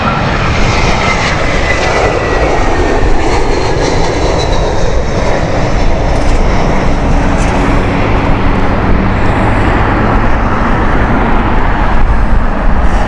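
A jet airliner on the Rome flight at Heathrow Airport roars loud and close in heavy winds, a continuous broadband engine blast with a faint rising whine, sustained at full strength throughout.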